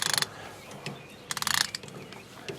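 A ratchet turns a spark plug socket on a 1968 Ford Bronco, giving two close bursts of rapid clicking, one short and one longer, with quieter handling noise between.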